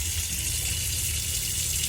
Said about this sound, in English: come over to the tap and pull the cold water through and then the hot